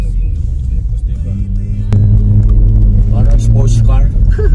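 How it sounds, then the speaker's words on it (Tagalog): A bus engine revving close by, its deep rumble rising in a strong throaty surge partway through and holding loud, with people talking over it. "Ganda ng tunog ng bus, diba?"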